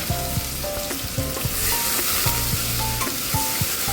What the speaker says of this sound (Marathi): हे त्याचं वाटण मी पुन्हा तेलामध्ये टाकलेलं आहे